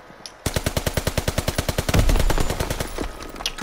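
Rapid automatic gunfire in Call of Duty WW2 multiplayer, a loud sustained burst of evenly spaced shots lasting about three seconds after a brief quiet start, with no talk.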